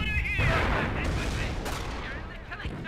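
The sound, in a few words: mortar firing in the video game Company of Heroes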